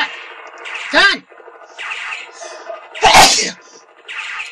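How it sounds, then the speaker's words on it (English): Two loud sneezes, about two seconds apart, burst out during a bush shoot-out game, with faint game sounds in between. "Sneezing is not helping!"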